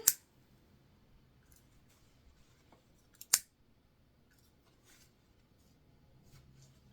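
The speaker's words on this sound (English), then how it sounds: "Cutting off our extra thread." Scissors trimming loose sewing thread from fabric, two sharp close snips several seconds apart over a near-silent background, with faint small handling rustles between them.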